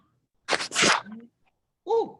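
A single sharp sneeze bursts out close by in a quiet room during an online algebra class, followed a moment later by a brief spoken word.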